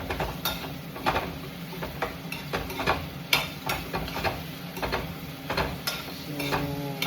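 A utensil stirring egg and cucumber in a pan over the flame, with steady scraping and light sizzle, soft clinks against the metal, continuous and close, no voices.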